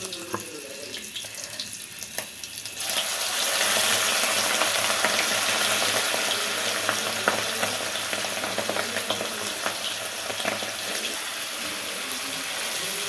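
Prawn dropped into hot cooking oil for a Kerala prawn curry, with a steady, loud sizzle and crackle that jumps up after a short quieter start and then keeps frying continuously.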